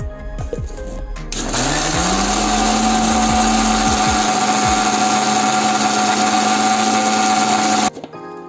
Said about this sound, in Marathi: आता आपण लाल मिर्च, जिरे आणि मीठ हे एकत्र वाटून घेणार आहे मिक्सर मध्ये